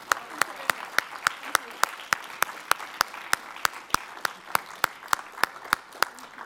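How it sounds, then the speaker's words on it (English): A crowd at the Lorenzo Natali Media Prize award ceremony claps in strict unison, sharp, evenly spaced beats about four per second held steadily over a soft room murmur. "On peut applaudir quand même."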